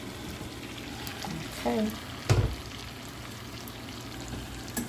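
Shrimp dropped into a hot pan of butter, onions and bell peppers, giving a low steady sizzle with a brief splash and a sharper burst of frying as they land; a voice speaks briefly.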